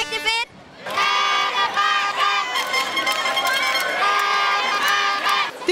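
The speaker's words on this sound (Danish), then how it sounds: "der er jubel over det hele" A large crowd cheers and shouts loudly and steadily at a school football final held outdoors in a park, with children's voices prominent and a brief lull near the start before the roar swells again.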